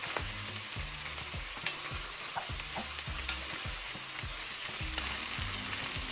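Carrots fry in a pan while they are stirred, giving a steady sizzle broken by regular scraping strokes, close and moderately loud, with no talking.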